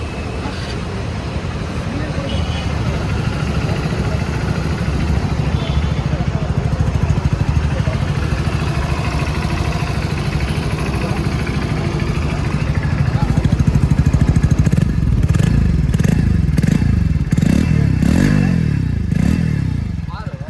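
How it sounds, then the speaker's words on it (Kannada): A Hero Splendor Plus Xtec 2.0 (2026) motorcycle idles with a steady, close exhaust putter, then revs up in several repeated throttle blips toward the end, with faint road noise behind. "ಬೈಕ್ ನ ಎಕ್ಸಾಸ್ಟ್ ನೋಟ್ ನೋಡ್ಕೊಂಡ್ ಬರೋಣ ಬನ್ನಿ."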